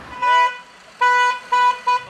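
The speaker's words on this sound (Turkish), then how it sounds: "Mesela uzun korna." Car horns honking in Istanbul traffic, loud and close, one long blast followed by a sustained honk and two shorter toots, with no talking.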